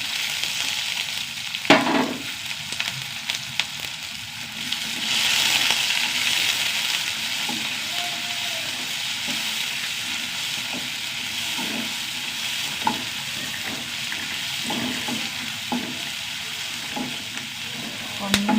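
Curry leaves frying in hot oil with mustard seeds, garlic and shallots, stirred in the pan: continuous sizzling with scraping stir strokes and occasional pops, close and moderately loud, no talking.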